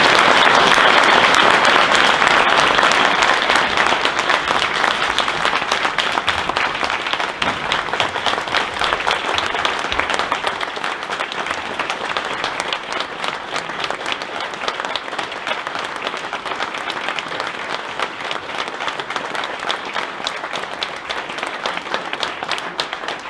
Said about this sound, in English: Crosby, would you accept the applause of the audience?